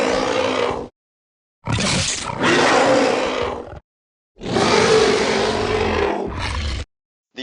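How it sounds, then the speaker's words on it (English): Ceratosaurus from a Carnivores game mod lets out loud, guttural roars, two long bursts separated by silence, each ending with a short extra growl, with no other sounds. "The calls are all very appropriate to the skin and model, with the dinosaur's guttural roars complemented by the predatory look."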